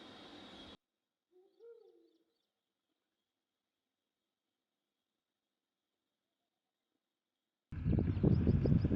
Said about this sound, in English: the spotted eagle owl. We could hear its call from far away.